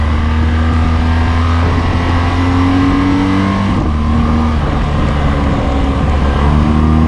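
Steady engine drone of a BMW R1200GS motorcycle riding the small coastal roads between Théoule-sur-Mer and Fréjus, close and continuous, with the pitch shifting as the rider changes gears and speed, heavy wind noise throughout, no talking.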